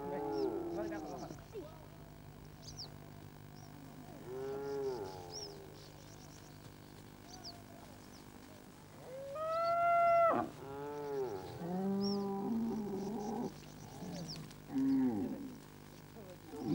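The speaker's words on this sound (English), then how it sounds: "for as far as I can see, Seri is surrounded by cattle." A herd of nomadic cattle lows on an African floodplain, with several drawn-out moos from different animals rising and falling at moderate distance, spaced a few seconds apart over a quiet open-air background.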